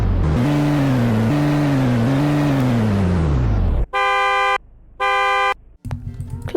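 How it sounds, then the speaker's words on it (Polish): A car horn in the Polish Car Driving video game blares in two loud, steady honks, each about three quarters of a second long. A rising and falling engine rev comes before them, and the engine idles afterward. "klakson można by rzec taki sam jak w innych samochodach"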